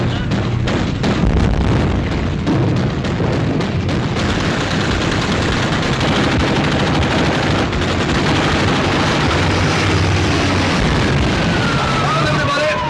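Ship's guns opening fire in a naval war film, a dense rapid barrage of gunfire and blasts that builds into a continuous loud roar, with voices shouting beneath.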